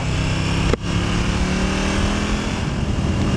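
Engine of a KTM Super Duke R naked motorcycle idling and pulling through a tight turn on gravel, a steady close rumble with a brief dip partway through and no talk.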